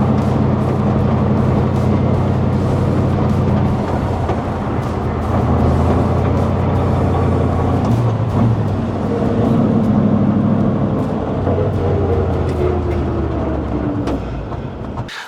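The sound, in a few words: 1941 Ford F-100 pickup with 289 V8 on test drive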